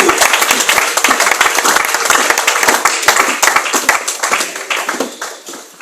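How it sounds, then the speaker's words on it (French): A church congregation answers a pastor's call with dense, loud clapping and acclamation, a busy rapid patter of many hands that holds steady and then eases slightly toward the end. "je veux que tu manifestes par une forte acclamation"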